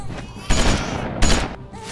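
Gunfire in The Walking Dead Season 2 game: a couple of sharp, loud blasts cracking close by amid a rough noisy backdrop, each shot followed by a short decaying burst.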